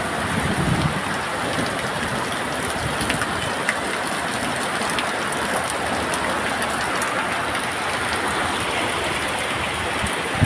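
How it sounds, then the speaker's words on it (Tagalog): Heavy rain pours down steadily in a constant, dense hiss that fills the whole stretch, loud and unbroken, with no voices over it. "napakalakas na ulan"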